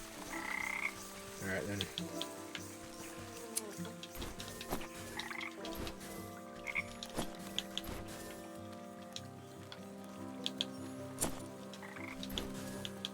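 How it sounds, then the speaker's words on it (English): Frogs croak repeatedly in the Wytchwood video game, a steady chorus of ribbits layered over ambient game music and clicking ticks, with a brief spoken remark. "Come here, froggies!"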